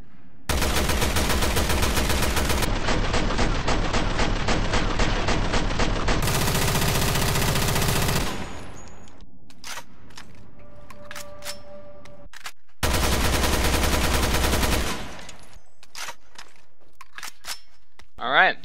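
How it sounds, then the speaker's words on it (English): An NSR-47 assault rifle fires in Resident Evil: Revelations 2, with long sustained automatic bursts that are loud and close, separated by a pause with scattered clicks and a few single sharp shots near the end. "So the first one is the NSR-47. Assault rifle with increased firepower but limited capacity."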